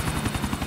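Helicopter in the video game GTA 4, a brief burst of steady, rhythmic low rotor thumping that stays loud and close, with no talking.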